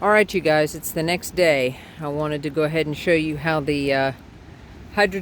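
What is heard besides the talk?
No everyday noise stands out behind the speech.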